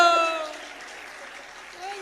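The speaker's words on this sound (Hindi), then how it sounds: "बजाओ ताली।" A crowd applauds at a Ram Katha religious discourse in Ayodhya. The clapping follows a brief sung or spoken tone at the start, fades to a lighter patter, then swells slightly again.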